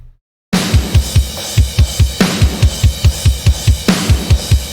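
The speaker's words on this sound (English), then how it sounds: "the drums on this thing should sound like this." Mixed drum track from a song, with EQ'd reverb: steady punchy kick and snare hits in a driving rock rhythm, cymbal crashes marking each bar, loud and upfront after a brief silence, no voices.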